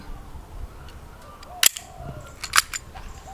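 A BB gun pistol with a muzzle velocity of 295 is dry-fired without pellets, giving two sharp, close mechanical snaps about a second apart over quiet room noise.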